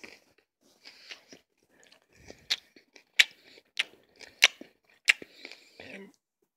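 Close, crisp bites and crunchy chewing of McDonald's fries, a series of sharp sporadic crunches with quiet gaps between them and no steady background.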